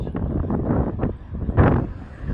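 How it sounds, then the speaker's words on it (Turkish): Wind buffets a microphone on a night ride in Marmaris, a close, rumbling gusty roar that swells and dips throughout without any speech. "Çok güzel ama biraz rüzgar var."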